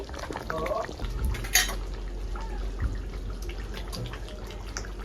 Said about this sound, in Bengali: এখন দিয়ে দিব ঘি।